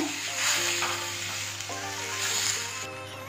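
A paste of tomato, ginger, garlic, coriander and chili fries in a hot pan while it is stirred, giving a steady, close sizzle that crackles on without a break.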